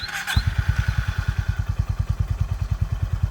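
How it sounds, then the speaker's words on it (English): A Honda Highness CB350 motorcycle fires up with a short cranking burst, then settles into a loud, steady thumping idle close by. "So I started this motorcycle."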